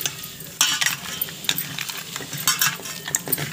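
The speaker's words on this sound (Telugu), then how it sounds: "ఇది అరకిలో మటన్ కాబట్టి మనకి ఉప్పు కారం బాగా పట్టేలా ఇలా బాగా కలుపుకోవాలి." Half a kilo of raw mutton being mixed by hand with salt and chili powder in a bowl: wet squelching and scraping bursts in an irregular rhythm, with light clinks of metal, close and alone, no talk.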